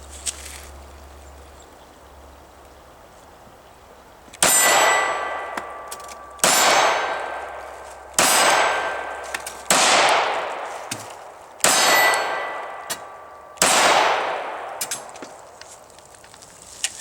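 An FN Five-seveN pistol fires five loud, sharp reports at a steady pace, each crack ringing out and decaying before the next, with quiet handling noise before the first shot.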